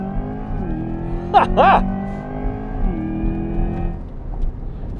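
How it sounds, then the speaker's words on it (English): A Corvette E-Ray with all-wheel drive launches hard from a standstill on a track, its engine droning steadily for several seconds close by, while a person laughs briefly near the start. "come to a stop, you've got the little performance page showed up, you got to see the green all the way, foot all the way down, give it the gas"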